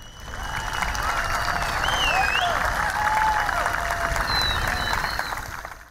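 Steady applause from a crowd at a ceremony where a cup is placed on a pedestal, dense clapping rising quickly and holding loud and even throughout before easing slightly at the end.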